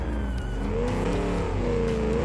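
A car in BeamNG.drive revs hard with one-wheel wheelspin, a steady loud engine drone rising and falling in pitch throughout with no gaps.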